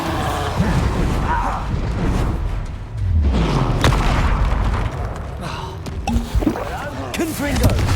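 A Confringo fire spell is cast in the Hogwarts Legacy video game, its blasts booming and crashing loud and close amid a busy battle. The spell name is spoken over the action.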